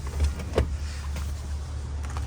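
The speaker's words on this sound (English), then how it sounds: "Now these seats recline back." Second-row power bench seat of a 2022 Cadillac Escalade ESV Sport Platinum reclining, a low steady electric motor whir with a couple of soft mechanical bumps, close and without talk.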